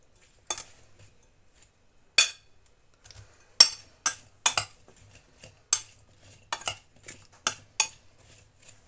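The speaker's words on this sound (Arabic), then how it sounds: "صافي غنحرك هادشي كله" A utensil stirring a spicy chicken wing mixture with hot pepper and cumin in a pan, sharp metallic scrapes and clinks in an uneven rhythm, close and clear against a quiet background.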